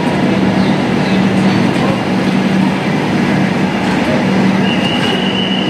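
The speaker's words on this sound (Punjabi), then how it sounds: "ਨਵੀਂ ਦਿੱਲੀ ਤੋਂ ਡਿਪਾਰਚਰ ਕਰਦੀ ਸੱਚਖੰਡ ਸੁਪਰ ਐਕਸਪ੍ਰੈਸ ਪੂਰੇ 2 ਘੰਟੇ ਲੇਟ ਡਿਪਾਰਚਰ ਹੋ ਰਹੇ।" The Sachkhand Super Express pulls out of New Delhi station running two hours late, a loud, continuous rail rumble with wheel clatter and a thin metallic squeal heard from on board.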